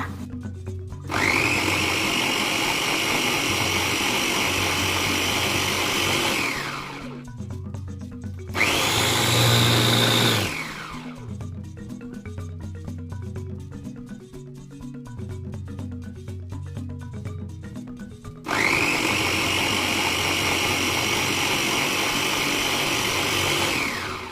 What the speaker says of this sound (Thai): ใครมีเครื่องปั่นสะดวกเครื่องปั่นก็ ปั่นได้เลยค่ะ